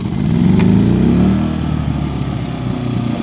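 A Predator 3500 inverter generator running in low idle mode, a loud, steady mid-pitched engine drone close by that swells briefly near the start, then settles into an even hum.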